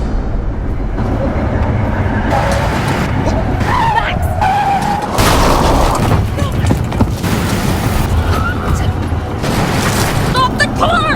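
Car tires skidding hard on a road in The Quarry horror video game, a loud screeching slide with thuds and bursts of impact over about eleven seconds, mixed with game sound effects and character voices.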